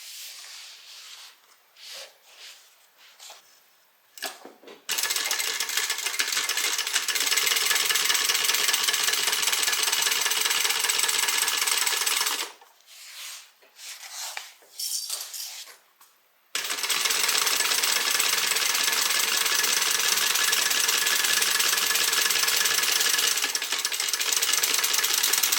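A sewing machine top stitching a tote bag seam runs in two long steady loud bursts, separated by quieter handling and pauses.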